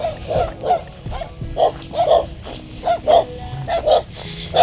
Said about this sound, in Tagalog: Yan, may aso na naman, no?